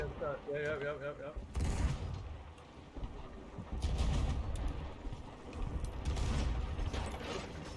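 Video game gunfire crackles through a team arena brawl match in irregular bursts of shots and mechanical clatter, moderately loud and mixed with voices.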